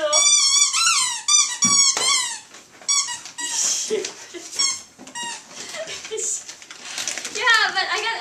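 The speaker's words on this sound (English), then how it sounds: "Oh, this one squeaks too." A squeaky dog toy squeals in rapid, high-pitched bursts as a dog chews it, the squeaks coming in quick clusters with short pauses, close and loud, and a person talks now and then.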